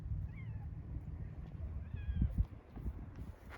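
A cat meows twice in quick succession indoors, the two clear, close calls separated by a short pause over low household rumble and shuffling.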